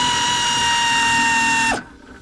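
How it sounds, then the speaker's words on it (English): A power tool loosens the bolts on the lower arm of a Renault Master Mk2 van. It gives a loud, steady high whine for nearly two seconds, then winds down abruptly and stops, with no talking. "I'm going to loosen up all of these bolts first."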